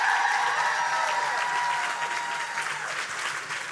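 An audience at a panel event claps for a woman walking onto the stage, a full, steady burst of applause that eases slightly toward the end, with no talk over it.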